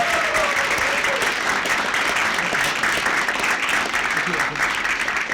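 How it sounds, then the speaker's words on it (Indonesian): Steady applause from a crowd, continuous and fairly loud throughout, with no pauses. "Tepuk tangan untuk Ateng."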